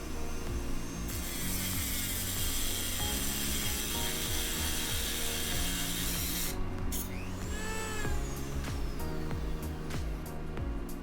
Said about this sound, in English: The amount of filing you see me do in this video isn't even a tenth of the amount of filing and sanding I did on this.